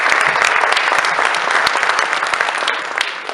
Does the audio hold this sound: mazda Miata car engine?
no